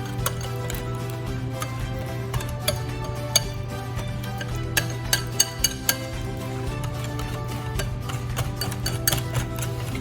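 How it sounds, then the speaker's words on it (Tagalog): A flour mixture with a little salt is stirred in a bowl for eggplant croquettes, giving soft, continuous scraping with light clinks over a steady background hum. "So make sure na mix po yung flour na hindi siya mag-clumps."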